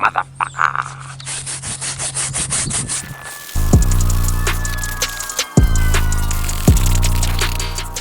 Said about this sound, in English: And then scrub like a motherfucker.